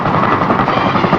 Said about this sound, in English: The Army's heavy-duty helicopter, the CH-47, known as the Chinook, can carry everything from heavy construction equipment